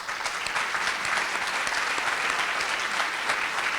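An audience at a bureau welcome event applauds in steady, dense clapping that continues evenly throughout, close and fairly loud, with no talking over it.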